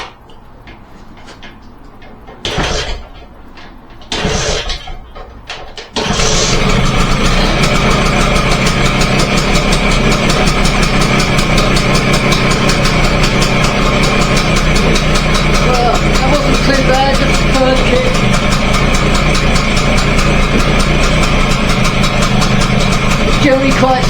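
A 1953 BSA Bantam D1 motorcycle engine, cold and running on choke, settles into a loud, steady idle after a few brief bursts at the start, with a rapid ticking putter held close up.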